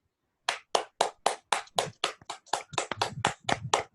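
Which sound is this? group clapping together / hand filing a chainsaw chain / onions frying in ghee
group clapping together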